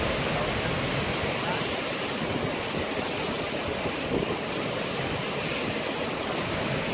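Strong water gushing from a spring, a dense, continuous rushing roar close to the microphone with no pauses.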